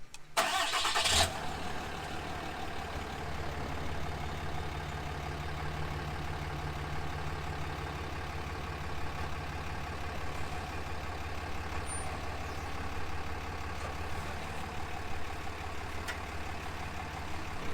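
A pickup truck carrying a NuCamp Cirrus truck camper starts with a brief burst, then its engine runs at a steady low rumble nearby for the rest.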